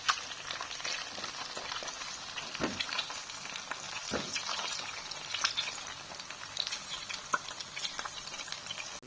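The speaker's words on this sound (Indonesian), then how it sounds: "aku mau goreng telur dulu." Eggs frying in a home kitchen pan give off a steady, close sizzle with crackling pops and spatters throughout, continuous and fairly loud with no talking.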